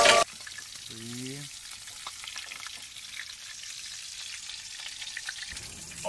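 Asparagus sizzles and fries steadily in a pan, a soft continuous crackle heard close up, with a brief rising tonal sound near the start and a louder noise at the very end.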